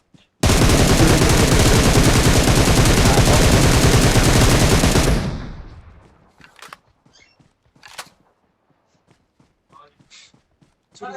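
Rapid automatic gunfire from a fight in the video game PUBG: a dense, loud, unbroken burst lasting about five seconds that trails off, followed by scattered faint clicks and light footstep-like taps.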